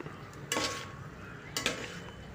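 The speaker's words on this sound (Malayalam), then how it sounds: "ഇപ്പോൾ നല്ലപോലെ ഒന്ന് ഇളക്കി കൊടുക്കുക" Carrot pickle masala stirred in a pan over medium flame, two brief scraping spoon strokes over a faint low sizzle, quiet and close.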